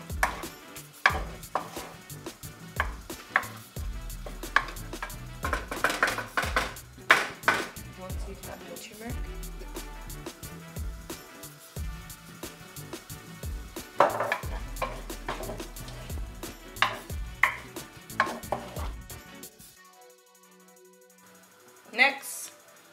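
Prawns coated in turmeric are stirred in a pan, with repeated close scraping and clattering strokes and a faint sizzle underneath, a brief pause near the end and then a final clatter.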